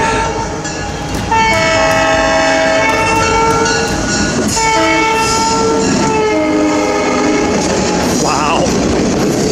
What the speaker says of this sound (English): coming down the tracks here is a steam engine train